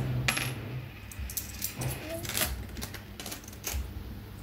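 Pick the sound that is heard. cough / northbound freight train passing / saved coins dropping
saved coins dropping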